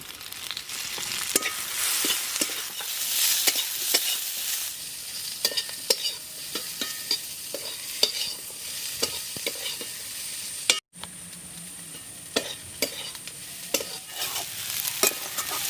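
Ivy gourd sizzles steadily in a pan while a spatula scrapes and stirs in repeated knocks, with a brief break near the end before frying resumes.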